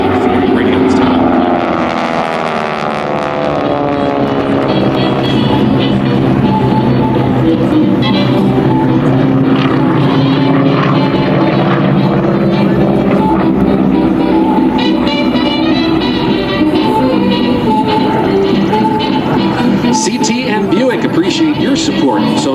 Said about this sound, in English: A maximum speed of about 240 miles an hour, and again powered by the 9-cylinder R1340 radial style.